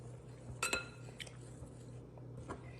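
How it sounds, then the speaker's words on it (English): Cocoa powder, baking soda, baking powder and salt being whisked together in a bowl, giving soft scraping with a few light clinks of the whisk against the bowl, close and fairly quiet. "I'm using a whisk"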